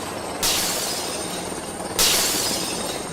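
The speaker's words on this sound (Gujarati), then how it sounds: "તમારું બાપ હેલિકોપ્ટર ફૂટી ગયું" Two sudden bursts of breaking glass in a comedy skit, the sound effect for a helicopter smashed by a thrown stone. Each crash is loud and bright and lingers briefly over steady background noise, with no talk.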